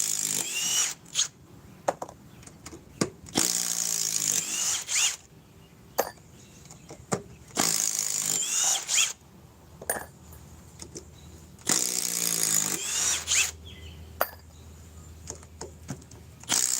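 An impact wrench drives fasteners in repeated short hammering bursts of a few seconds each, separated by pauses with quieter handling sounds, close and loud.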